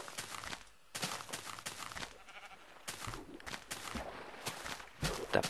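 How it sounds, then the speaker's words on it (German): Sheep in Minecraft Beta 1.8.1 bleat in short repeated calls amid soft game footsteps and ambient noise, moderately faint and irregularly spaced. "Da planscht ein Schaf."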